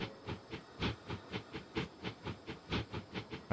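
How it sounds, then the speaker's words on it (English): A train pulls out in a city-building video game set in Manchester's Salford, giving a faint, rhythmic chuffing and clattering that pulses steadily about three times a second, with no talk. "Train 51's pulling out."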